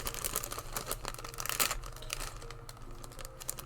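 Scissors cut open a plastic Lego parts bag, giving a busy run of close crinkling and snipping rustles over a low hum, steady and fairly quiet throughout.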